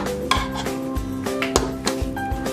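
A whisk and metal mixing bowl are lifted off a stand mixer with close, rapid clinks and clatter over a steady tonal hum, while butter is being made.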